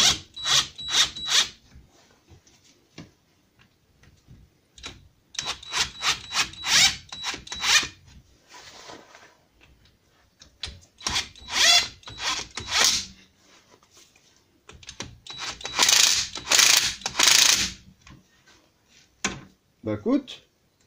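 A spring compressor being cranked tight on a shock absorber coil spring: repeated rasping, ratcheting strokes in several bursts, close and fairly loud, with pauses between runs and someone speaking in between.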